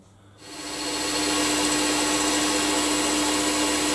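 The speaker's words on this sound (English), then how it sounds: "Let's get on and drill these out." A solid carbide stub drill bores into tough tungsten dart blanks. A steady, loud machine whine starts after a brief quiet moment and then holds even and continuous with no talking.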